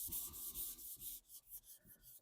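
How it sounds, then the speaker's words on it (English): Quiet, rhythmic hand sanding strokes rub through clear coat on the paint of a 1976 classic car, about eight short back-and-forth passes, close and soft. "I didn't expect to sand through the clear this easy"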